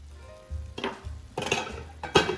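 Shakshuka sauce with eggs poaching in it, cooking in a pan, with a soft sizzle and bubbling broken up by a few short clinks and scrapes of a lid or utensil against the pan.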